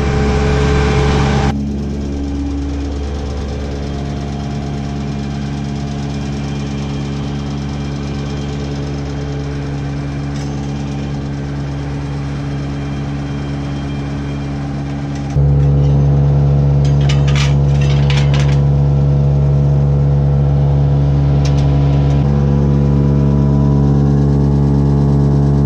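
A silo unloader runs steadily on a farm, giving a loud, continuous mechanical drone with a knocking, engine-like hum that shifts pitch partway through, with faint rattles on top.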